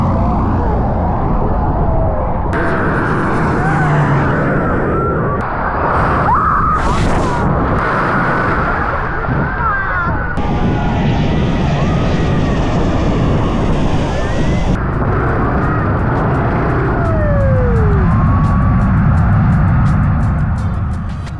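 A low-flying airliner roars over Maho Beach on St Maarten, a loud continuous rumble with shifting engine whine that swells and fades across the pass, while people talk in the background.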